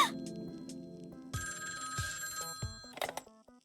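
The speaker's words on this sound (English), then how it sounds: "The phone was ringing in its usual shrill tone." A telephone rings with a shrill electronic tone in repeated bursts, fairly close and alone, with some clicking and rustling underneath.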